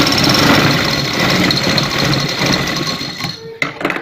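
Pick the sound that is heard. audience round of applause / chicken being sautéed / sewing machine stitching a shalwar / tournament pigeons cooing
sewing machine stitching a shalwar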